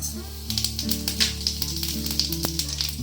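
A dried red chilli, a bay leaf and a small pinch of panch phoron crackle and sizzle in hot oil for a chutney, giving a bright spitting hiss with scattered pops over a steady low hum.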